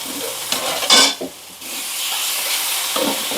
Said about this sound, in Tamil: அப்படியே சேர்த்து நல்லா வதக்கி விட்டுருங்க